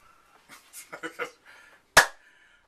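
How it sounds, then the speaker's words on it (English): A single big, sharp hand clap in an indoor lesson, loud and close, coming after a few soft spoken words and ringing briefly before quiet. "Do nice big clap."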